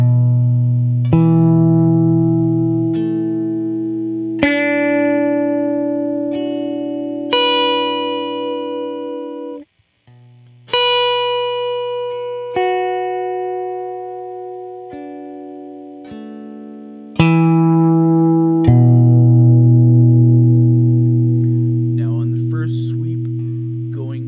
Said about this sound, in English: I'm going to randomly pick some strings hard, some strings softly, with how the current compression is set right now